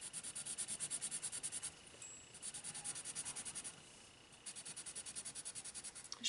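A colourless blender pencil is rubbed over paper in a quick, steady rhythm of soft scratchy strokes. The strokes pause briefly midway, then resume, close and quiet.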